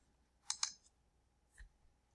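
Two quick, sharp computer mouse clicks close together, followed by a softer third click, faint and close in a quiet room.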